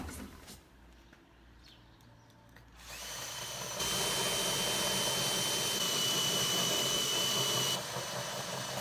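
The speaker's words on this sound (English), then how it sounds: "I'll basically use that as the pilot hole from the other side to drill the 50mm hole." A power drill with a 50mm hole cutter starts after a quiet moment and cuts through fiberglass, a loud whining grind that continues for several seconds before easing slightly.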